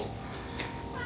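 A cat meows faintly a couple of times at an abandoned temple shrine in Japan, a soft, distant call set against a steady hiss of outdoor ambience.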